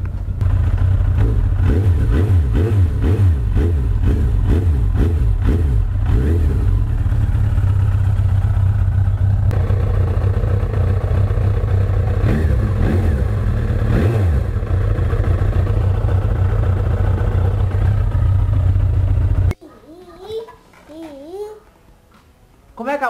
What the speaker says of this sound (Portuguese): Como eu acabei de colocar o óleo novo, vou deixar ela ligada um bom tempo, uns 10 minutos aí.